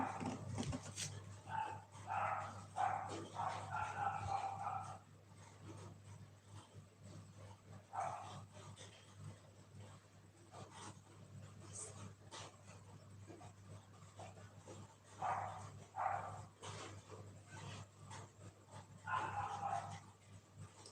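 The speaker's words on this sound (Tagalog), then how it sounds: "Ang ingay ng aso." A dog barks in repeated bursts with some higher yips, fairly close, separated by quieter stretches over a low steady hum.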